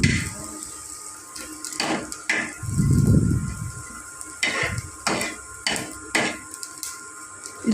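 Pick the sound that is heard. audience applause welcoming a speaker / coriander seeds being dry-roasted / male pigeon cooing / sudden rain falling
coriander seeds being dry-roasted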